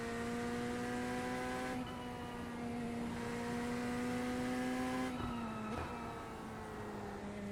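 A Corvette GT3 race car in the iRacing sim holds a loud, steady engine drone, dipping briefly between gear changes before climbing again, with no voices.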